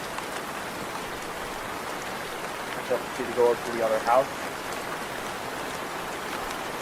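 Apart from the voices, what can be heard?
heavy rain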